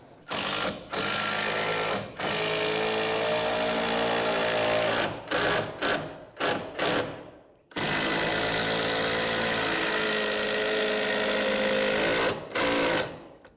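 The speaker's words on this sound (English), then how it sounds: "Rip down my 2x4." Power saw ripping a 2x4 lengthwise into a filler strip, a loud droning cut broken by brief pauses, a run of short on-off bursts near the middle, then another long steady pass and a final short burst.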